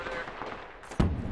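Gunfire striking the player in Apex Legends while playing Gibraltar: a short burst of shots with a sharp loud impact near the end, heard over game background.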